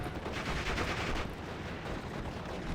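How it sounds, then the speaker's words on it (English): Mortars fire amid a wider battle in the WWII strategy game Steel Division Normandy 44, a loud, dense and continuous roar of explosive gunfire with no clear gaps between blasts. "Both mortars are firing."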